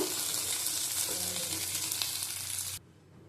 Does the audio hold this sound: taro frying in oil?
yes